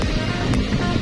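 Strong wind blows across Manila Bay, a dense, steady roar with buffeting on the microphone and no break over a brief moment.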